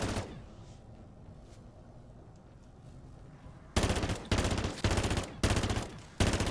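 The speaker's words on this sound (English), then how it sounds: "I'm pretty sure this burst assault rifle shoots 5 bullets" Several sharp bursts of rapid gunfire from a burst-fire assault rifle in Modern Warfare 3 arrive in quick succession after a quieter stretch of game ambience, each burst loud and close.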